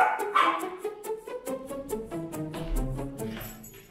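A puppy barks and yips in a busy indoor home, a run of short repeated barks with a whimpering edge, fairly close and moderately loud, with faint background voices of people nearby.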